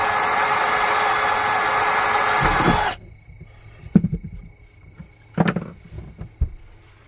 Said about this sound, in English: Then we're just gonna slowly drill out our holes for our snaps.